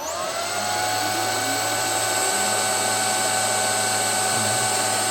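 Several electric motors run together from a single frequency converter, producing a steady, close mechanical whine with sustained tonal hum that holds evenly throughout, with no voices.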